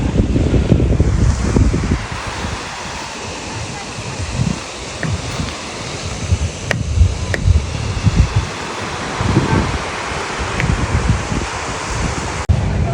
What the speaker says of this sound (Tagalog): Beach time. Low tide.